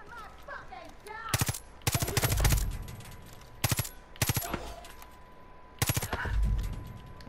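Bursts of rapid automatic gunfire in Far Cry 5 during an outpost takeover, several clusters of loud close shots separated by short pauses, with a voice talking faintly underneath.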